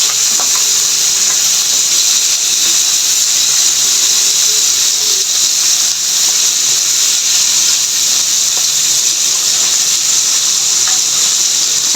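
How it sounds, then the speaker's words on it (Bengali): Constant bright sizzling and hissing of tengra fish frying in a little hot oil, steady and close, with faint scrapes and no talking. "এইভাবে আমি মাছগুলো ভেজে নিচ্ছি"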